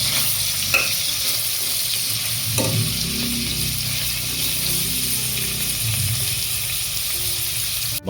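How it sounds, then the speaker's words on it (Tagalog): Sponge gourd and firm green papaya sautéing in a pan for chicken tinola, giving a steady close sizzle with stirring and scraping throughout and no talking. "Sunod nating igisa yung patola, papayang matigas kasi matigas to."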